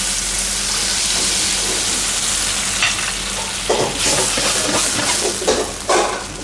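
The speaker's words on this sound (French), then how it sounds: "Et on va mouiller tout simplement avec notre bouillon de volaille." Chicken broth poured into a hot pan, sizzling loudly and steadily with a bright hiss, followed by stirring scrapes and bubbling bursts near the end, close and without talking.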